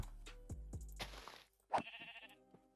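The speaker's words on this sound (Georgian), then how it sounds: "აი ცხვარს დავარტყა, მეცა." A sheep in the Minecraft video game bleats when struck: a couple of short, wavering bleats mixed with blocky game sound effects, with no talking.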